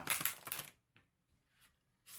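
A tarot deck with unusually large cards is riffled by hand, giving a dense papery flutter for under a second, then a few faint rustles and another brief burst at the end, close and quiet, with no talking.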